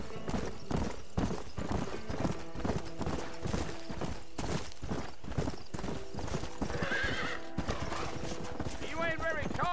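Horse hooves trotting at a steady clip-clop pace in the Red Dead Redemption video game, with a horse whinny and a voice talking over the hoofbeats.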